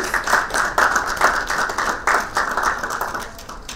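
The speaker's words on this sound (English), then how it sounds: "Let's have a round of applause." Conference audience applauding at a summit session, steady dense clapping from many hands that holds for several seconds and tapers slightly at the end.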